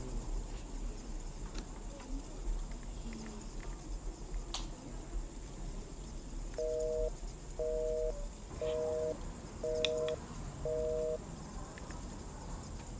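Network tone from a mobile phone call to a switched-off phone, five evenly spaced, identical short beeps heard over a quiet, hissy room background.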